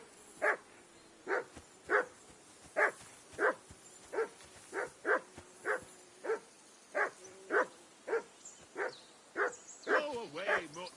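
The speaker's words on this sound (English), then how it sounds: "Henry, that barking's driving me nuts" A single dog in the medieval world of Kingdom Come Deliverance 2 barks steadily at a camp on a riverbank, about seventeen sharp evenly spaced barks, clear and close, ending in a whining yelp.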